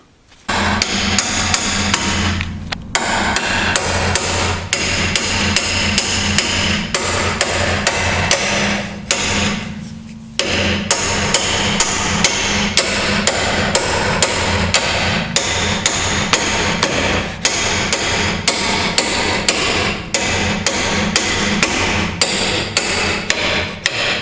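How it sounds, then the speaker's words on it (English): Hammer blows driving a double pickle fork to separate a ball joint from the knuckle on a Mazda MPV, a long run of loud, rapid metallic strikes in steady rhythm, briefly pausing twice, close and alone. "We're going to separate the ball joint from the knuckle now using the old double pickle fork trick."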